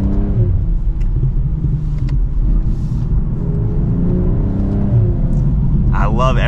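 A 2024 BMW M240i xDrive in sport mode, its engine and exhaust giving a low, steady rumble from inside the cabin as the car accelerates, with a driver talking over the sound.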